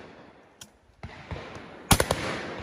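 Shotguns fire during a game shoot on Exmoor: a few sharp, distant-sounding reports, with a quick cluster of louder bangs near the end followed by an echoing tail.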